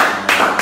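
Brief burst of audience clapping at a live Nigerian evening television talk show, steady broadband patter that swells partway through, short and fairly loud with no talk over it.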